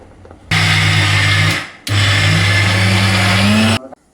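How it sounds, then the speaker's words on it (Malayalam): Kitchen blender grinding a batter of rice, salt, egg and coconut, a loud steady whirring motor that runs, stops briefly, then restarts and climbs slightly in pitch before cutting off. "ഇനിയിപ്പോൾ ഞാൻ എന്താ ചെയ്യുന്നത് ഇത് അരയ്ക്കാൻ പോവാം"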